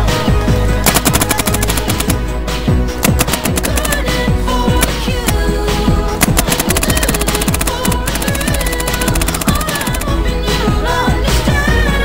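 A paintball marker on a prison-themed outdoor field fires a long, continuous rapid volley of sharp pops, loud and dense, with a steady background roar and no talking.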